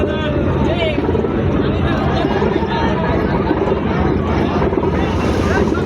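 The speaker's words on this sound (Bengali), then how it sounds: "তাই আরেকটা লঞ্চ আসছে এটাকে আবার ছাড়ানোর জন্য" A launch boat approaches to free another launch stranded on a river sandbar. Its engine gives a loud, continuous roar, and wind buffets the microphone while people chatter nearby.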